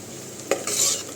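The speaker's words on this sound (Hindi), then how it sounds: "यहाँ देख सकते हैं मैंने 2 प्याज काट के डाल दिए थे, ब्राउन हो जाएंगे ना" Two chopped onions frying in a pan, a steady soft sizzle with a brief clatter of stirring midway, close and alone without voices.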